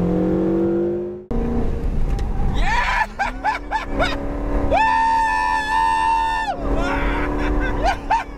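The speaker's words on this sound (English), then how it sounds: "Full throttle, put your foot down." A supercar at full throttle on a track, its engine rising in pitch through several sharp gear changes and building to a loud, sustained high howl. Wind and road noise sit underneath.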